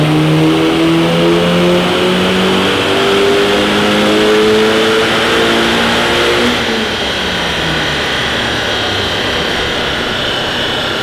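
A Volkswagen Golf V GTI engine revs loudly on a test drive, its tone climbing in several rising sweeps, then falling away as the revs drop and wind roar takes over.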